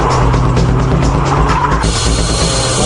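A tuned Nissan S14 Sylvia drifts on a slightly wet track with Tsuchiya at the wheel, its engine roaring loud and close as the tires squeal continuously across the whole moment.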